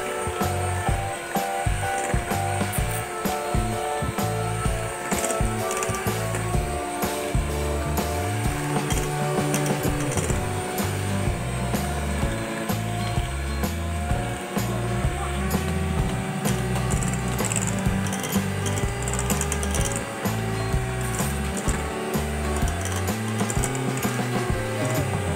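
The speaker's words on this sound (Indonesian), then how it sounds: "kocok lagi menggunakan mixer speed paling tinggi selama 10 menit" An electric mixer runs at its highest speed, beating sponge cake batter with a loud, continuous whirring motor whine and a steady rattling, gear-like chatter that never pauses.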